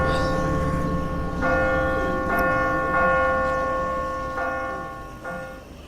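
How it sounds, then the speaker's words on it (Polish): Church bell ringing from a bell tower in The Walking Dead video game, repeated strikes with long sustained tones layered over a steady game soundscape, fairly loud and close. "Dzwonimy na dzwonnicę."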